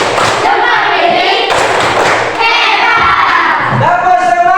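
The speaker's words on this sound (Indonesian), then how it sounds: "Sekali lagi, tepuk hebat." Children at a school activity clapping in a chant pattern, a few sharp group claps and thumps mixed with loud young voices shouting and chanting close by.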